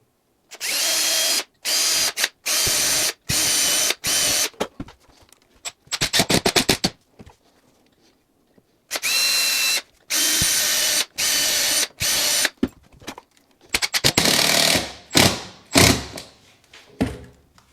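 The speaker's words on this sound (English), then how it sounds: "exterior grade screws that I'm going to put in" A power drill drives exterior grade screws into a bathroom floor to secure a toilet flange, a loud, close whir in repeated short bursts of a second or so, with brief pauses and ratcheting clicks between.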